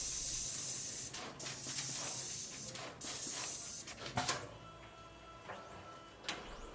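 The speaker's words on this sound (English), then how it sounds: "This machine inserts components into the PCB very quickly and is quite interesting" Pick and place machine rapidly inserting components into a PCB on an LED light production line, giving steady mechanical hiss and whirring with repeated sharp pneumatic bursts and clicks throughout.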